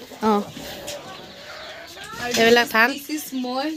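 Farmyard chickens kept at a village home cluck in short repeated bursts, fairly close, mixed with human voices talking over them.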